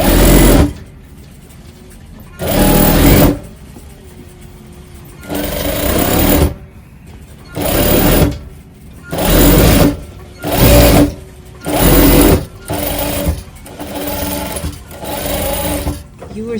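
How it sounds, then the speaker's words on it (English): A tailor's sewing machine stitches jacket fabric in repeated bursts of loud, steady whirring, each lasting about a second, separated by pauses in which people talk. "Always before you sew, I have to see what type of fabric I'm sewing."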